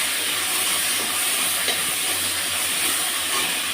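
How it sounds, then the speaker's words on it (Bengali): Spices and chili paste stirred in a frying pan give a steady, close sizzle with faint scraping throughout, and no voices. "দিয়ে দিচ্ছি কিছুটা লঙ্কা বাটা, দিয়ে আবার কিছুক্ষণ নেড়ে নেব।"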